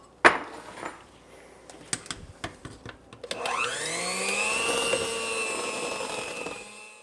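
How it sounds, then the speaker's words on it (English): A mixer beats mashed potatoes with a whisked egg for shepherd's pie, starting after a few scattered clanks and knocks, then whirring loud and steady at close range with a rising and settling motor pitch. "we'll beat the mashed potatoes again, mash them"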